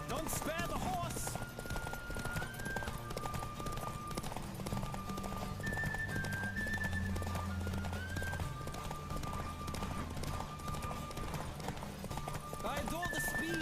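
Horse hooves pound in a steady galloping clip-clop rhythm in The Witcher 3, close and continuous, with a brief whinny near the start and music playing along throughout.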